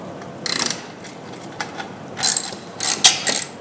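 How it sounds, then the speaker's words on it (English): A hand ratchet tightens the shroud bolts on a small engine during assembly, giving several short bursts of rapid clicking separated by quiet pauses, close and crisp with no talk. "you're going to tighten these bolts up"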